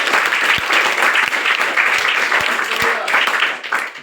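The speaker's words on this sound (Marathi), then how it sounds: "टाळ्या वाजून सर्वांनी" An audience at a trust and construction company event breaks into loud, close applause, a thick wash of clapping that holds steady before tapering off near the end.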